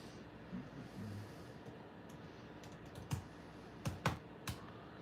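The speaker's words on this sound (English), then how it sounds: "I'll type it in." Someone types on a computer keyboard in a quiet room, the keystrokes faint and sparse, with a few sharper clicks near the end.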